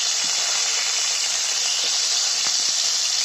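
Fish frying in hot soybean oil in a pan in a village kitchen, a steady, loud sizzling hiss that holds throughout with a few faint pops and crackles and no voices.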